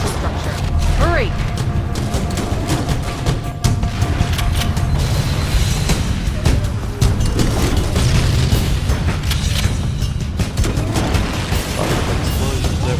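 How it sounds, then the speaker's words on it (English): Repeated booming explosions and mechanical clatter from the Halo CE video game, dense and loud throughout with a steady roar of game noise and sharp bursts layered over it, while a voice talks over parts of it. "Explosions everywhere."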